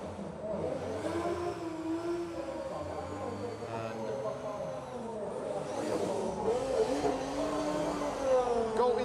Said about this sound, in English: Lauri Clint van Oort warming up the tires there in the turnout box.